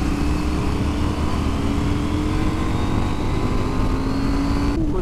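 Suzuki GSX-8S and KTM 790 Duke motorcycles in a fourth-gear roll-on from 40 mph, a loud sustained engine roar rising steadily in pitch, with a sudden change near the end.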